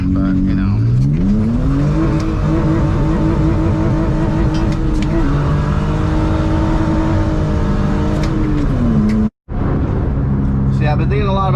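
A BMW E46 on a rainy road, its engine loud and close, revving and changing pitch as the car slides sideways, with someone talking over the engine throughout.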